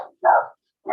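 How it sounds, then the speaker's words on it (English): A dog barks at a package delivery, two loud close barks separated by a short silence, heard alone without any talking. "the dog is barking because the package has been delivered"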